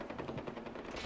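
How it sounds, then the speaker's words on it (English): Rapid automatic gunfire from the Far Cry 4 video game, a fast dense burst of repeated shots, fairly faint and continuous over a short moment with no voice over it. "Lots of shooting."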